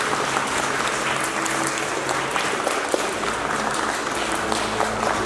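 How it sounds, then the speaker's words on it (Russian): Audience at an Orthodox culture festival applauds a folk-ethnographic ensemble with steady, dense clapping that holds evenly across the whole stretch at moderate loudness. "Вот это аплодисменты!"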